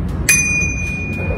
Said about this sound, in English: Right over here, we've got a bell.